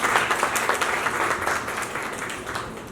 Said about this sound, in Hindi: एक बार मैं सबकी तालियां चाहूँगा शेलार साहब की।